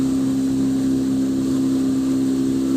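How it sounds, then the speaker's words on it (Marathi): A motorboat engine running steadily, with a constant loud hum and strong, even drone and no changes in pitch or level. "तर तुम्ही बघू शकता हे बघा आपले बोट चालत आहे"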